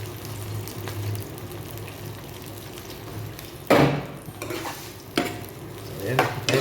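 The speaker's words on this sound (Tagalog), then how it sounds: "kumukulo-kulo itong sabaw ng ating mushroom" Mushroom broth bubbles and simmers in a pan with a steady low sizzle, broken by a few louder stirring scrapes and splashes; no talking.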